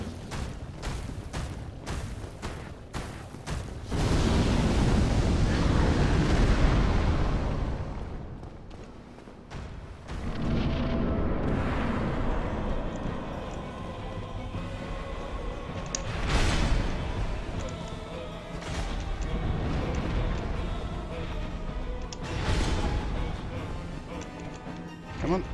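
Fire explosions and heavy impacts crash through a Dark Souls boss fight against the Demon Firesage, a burst of sharp hits followed by loud roaring blasts and thuds, while a player talks over parts of the action.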